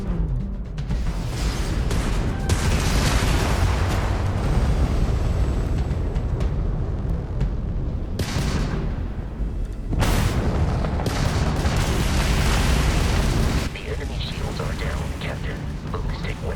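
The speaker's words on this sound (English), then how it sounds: "If you can keep the enemy ship centered on the HUD, we can lock in to fire a homing missile." Homing missiles firing during space combat in the video game Starfield, a dense, loud rumbling roar with heavy booming launches, continuous over the whole stretch with surges and brief dips.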